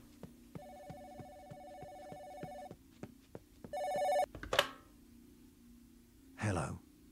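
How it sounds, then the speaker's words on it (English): A telephone rings in repeated short bursts, fairly faint, with a couple of brief clattering noises and a short rustle between rings. "the phone's ringing"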